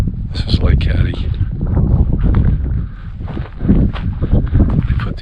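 Strong wind gusts across a clifftop at Lake Hattie, Colorado, buffeting the microphone in loud, uneven rumbling bursts while a voice talks through it.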